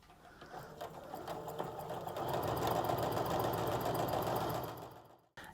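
A sewing machine stitches quilt fabric in one continuous run that speeds up and then stops, close and clear with no talking.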